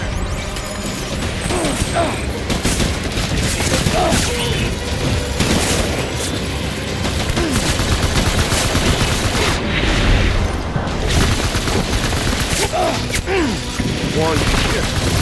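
Dense gunfire and booming blasts in the Death Stranding video game break out after an order to open fire, loud, continuous and chaotic for the whole stretch, with rattling mechanical noise mixed in.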